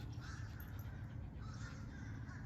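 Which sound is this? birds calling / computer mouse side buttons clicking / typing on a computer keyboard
birds calling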